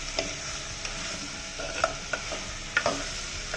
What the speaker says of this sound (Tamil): ஒரு 5 நிமிஷம் நல்லா வதங்கட்டும்